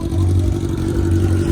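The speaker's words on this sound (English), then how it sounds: "is that a motorcycle engine on the back of this" A car with a motorcycle engine mounted on the back runs loud and close at a car meet by the bay, a steady throaty drone with slight revving pulses.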